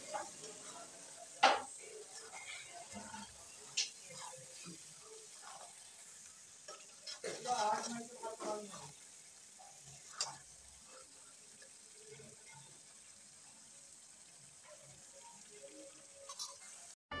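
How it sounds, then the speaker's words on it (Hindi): Chicken gravy masala being sautéed continuously in a pan, heard as a faint, steady low sizzle under sporadic scraping and stirring knocks from the spoon. "और अब हम इसे 10-15 मिनट तक हम लगातार इसे भूनेंगे।"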